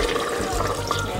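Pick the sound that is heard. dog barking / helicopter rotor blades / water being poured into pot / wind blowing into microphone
water being poured into pot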